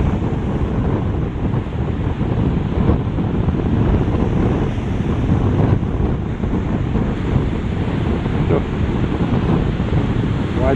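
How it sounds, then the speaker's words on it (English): Large surf breaking over a sandbar, a loud continuous roar of waves with strong wind buffeting the microphone throughout. "waves on the sandbar. The mid breaks."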